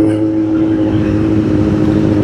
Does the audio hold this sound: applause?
no